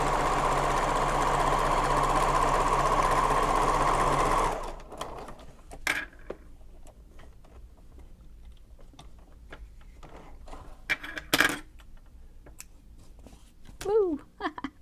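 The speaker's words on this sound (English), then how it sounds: "It really doesn't matter how you sew these together, as long as they're together." A sewing machine runs steadily for about four seconds while stitching messenger bag pieces together, then cuts off, leaving faint handling noises and a few brief clicks.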